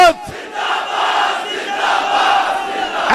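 A large crowd at a religious speech chanting the Zindabad slogan, a loud massed roar of voices shouting together in sustained swells after a brief opening cry, close and dominant.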